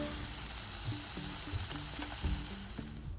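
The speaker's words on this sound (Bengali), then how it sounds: "আমি মাছগুলারে উল্টাইয়া দিলাম, একটু বাজরাম আর কি তেলের মধ্যে, শুকনো মরিচ আর গার্লিক তো আছেও।" Fish sizzling in hot oil with dried chili and garlic as the pieces are turned, a moderate crackling hiss with soft utensil knocks, close by and fading slightly at the end.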